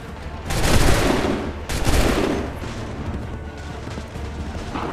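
Musket volley gunfire in the Assassin's Creed 3 video game: dense bursts of rifle fire swell twice in close succession, loud and crackling, with scattered shots and battle rumble continuing underneath.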